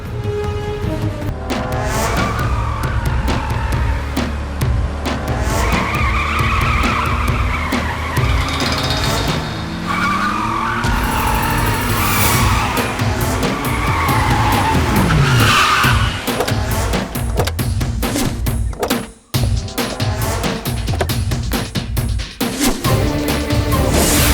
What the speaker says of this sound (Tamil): இன்னும் ஸ்லோவா ஓட்டு வண்டிய